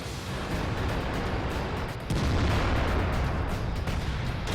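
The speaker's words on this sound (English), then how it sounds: "And there's a KV-4 over there shooting at me." Distant artillery-style cannon fire from a KV-4 heavy tank in the World of Tanks video game, with dull booming blasts over a steady rumbling battle noise that grows louder midway, without talk.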